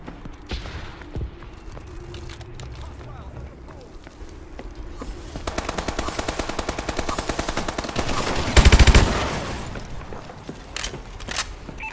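Automatic and burst gunfire from Call of Duty: Advanced Warfare, starting sparse and faint, then growing into dense, rapid volleys with a loud close burst near the end, under radio-style game voices.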